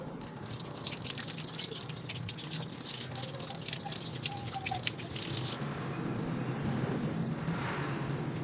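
Running water during hand washing at a community health nursing bag-technique demonstration, a steady close hiss of flow with splashing that quiets partway through, no talk.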